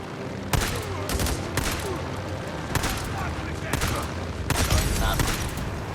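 Shotgun blasts in Days Gone, a post-apocalyptic biker game, ring out in a loud, irregular volley of about six sharp reports spread over several seconds against a steady background din.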